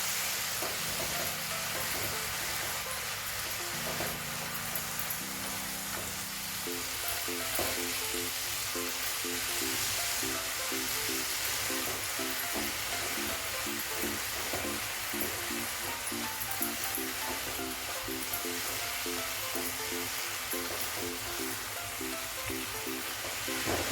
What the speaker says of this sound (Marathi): एक दोन मिनटं चांगल्याला परतून घ्यायचे आपल्याला पूर्ण साखरेमध्ये मिक्स झालं पाहिजे